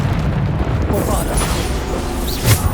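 A Bombarda explosion spell cast in Hogwarts Legacy, heard as a loud, booming burst within a busy stretch of combat noise, with a sharp swell near the end.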